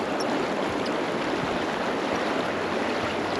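Rapids on the Arkansas River rush in a steady, loud broadband wash of churning water, continuous and close, with no voices.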